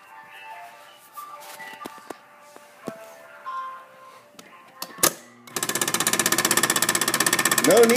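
A Kenmore Elite refrigerator's ice dispenser running with no ice coming out, a sudden loud rattling mechanical buzz with rapid regular pulses after several seconds of scattered clicks and knocks.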